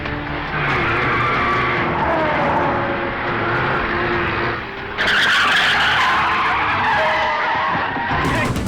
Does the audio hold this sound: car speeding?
yes